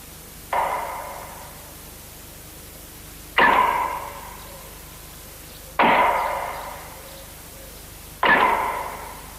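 Woodcutters chopping wood in a cartoon forest: four sharp, ringing axe strikes spaced a couple of seconds apart, each with a short decaying echo, fairly close and clear with no talk over them.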